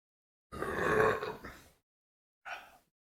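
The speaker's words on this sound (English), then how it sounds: "Got a burp to it. A mild burp." Someone burps after drinking cold Destihl Brewery Wild Pack beer. A drawn-out, rumbling burp lasting over a second is followed by a short, softer second one, both close and alone against silence.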